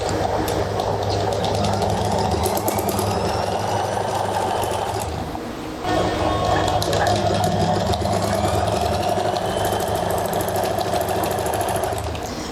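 A sewing machine stitches trouser fabric with a steady, loud mechanical whir and rapid needle chatter, pausing briefly near the middle before running on continuously.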